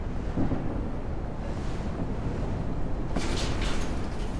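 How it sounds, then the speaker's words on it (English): Storm wind in Grocery Store Simulator, a constant low rushing roar with gusty swells and a brief brighter whoosh near the end, steady and alone without talk. "I wish the storm would go away."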